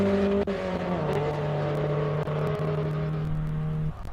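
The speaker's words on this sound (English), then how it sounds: "Ford with the Pinto engine as well. Of course, it is an Escort. It's got the 2-liter 4-cylinder." A Ford Escort race car with a 2-liter Pinto four-cylinder engine drives hard at a hillclimb, its loud, steady engine note holding close for the whole stretch, with brief dips where the revs shift.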